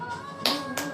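Two sharp hand claps land close together at home over a soft melodic background.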